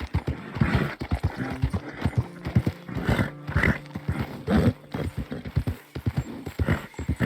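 A horse gallops in the video game Red Dead Redemption 2, hooves pounding in a fast, uneven rhythm close up, with a brief snort or whinny partway through.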